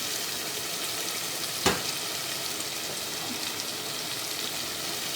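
Red curry masala for chole fries in a pan, a constant close sizzle with one sharp knock of the spoon as it is stirred on a lowered flame.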